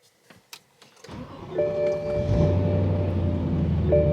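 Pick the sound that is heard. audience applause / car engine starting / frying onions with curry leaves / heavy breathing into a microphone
car engine starting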